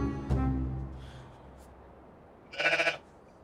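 A sheep being held for shearing lets out a short bleat near the end, loud and close, after a brief thump and some quiet handling noise, with no talk.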